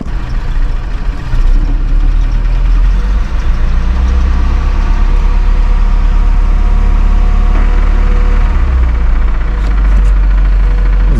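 Truck engine idling loud and steady, a dead field truck just brought back to life, with a low rumble that carries a possible knock from a spun rod bearing throughout, no talk.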